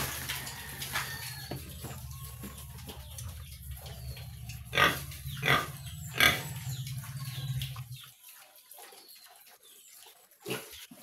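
One-month-old piglets grunt in their pen, several rough bursts clustered around the middle with a low steady hum underneath, while a few other animal calls sound faintly nearby.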